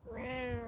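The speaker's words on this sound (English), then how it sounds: "Meow." A single cat gives one short, clear meow with a rising then falling tone, close by and fairly soft, with nothing else around it.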